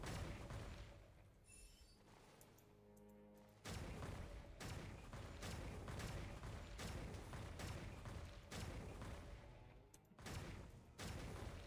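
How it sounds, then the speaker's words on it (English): Gunfire in a video game shooting minigame: bursts of rapid shots and booms in quick succession, fairly loud and continuous after a quieter opening, with no talking. "Why are we doing shooting games?"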